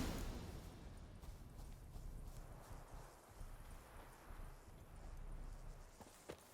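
Steady clip-clop of a horse's hooves in The Witcher 3: Wild Hunt, quiet and continuous under wind and rustling outdoor ambience.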